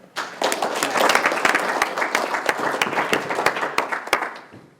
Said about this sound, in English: You don't have to clap. I guess you already did.